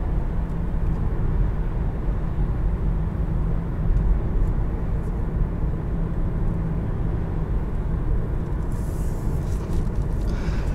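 A 2020 Volkswagen Jetta SEL Premium driving in sport mode with its sport transmission setting, heard as a steady engine and road drone from inside the cabin, with no other sounds on top.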